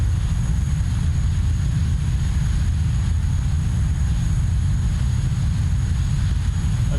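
An aircraft in a flight simulator game, flying in a group over South Korea, gives off a loud, steady, unbroken engine drone with a heavy low rumble and no voices.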